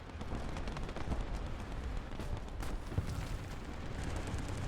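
A continuous rumbling roar with scattered bursts and pops, like a distant explosion and fire in the tank game War Thunder, steady in loudness with no talking.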